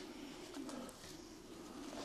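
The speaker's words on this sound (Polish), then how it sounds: "Takimi gołębiami." Racing pigeons in a loft coo softly and continuously, a low murmuring drone under faint ambient noise with no talking.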